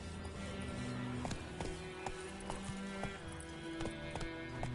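Roach, a horse in The Witcher 3, trots with steady clip-clop hoofbeats over a game soundscape, with a brief whinny-like sound mixed in and no talking.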